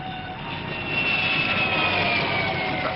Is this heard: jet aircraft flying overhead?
yes